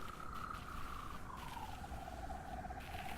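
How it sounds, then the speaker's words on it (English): A creature in the video game EXO ONE chirps in a steady stream of rapid, repeated trills that slowly dip in pitch, moderately close over a quiet hiss with no talking. "Whoever's chirping over here. Who's making that noise?"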